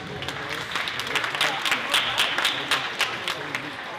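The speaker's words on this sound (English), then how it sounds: "Give yourself a round of applause." A crowd at a youth scholarship bowling tournament gives a round of applause, a dense burst of clapping that rises and holds for a few seconds.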